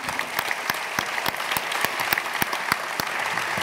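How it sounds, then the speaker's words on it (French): Audience applauding after a talk with a healthcare director, sharp individual claps in a brisk, uneven rhythm from a modest crowd, fairly close and with no talk. "on peut vous applaudir"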